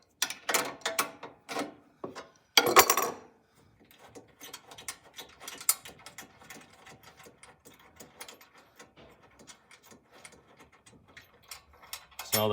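Bolts are loosened on a BakeMax reversible dough sheeter, with close metallic ratcheting clicks in quick bursts and a sharp loud clatter near the start, then quieter scattered ticks and scrapes with no talking.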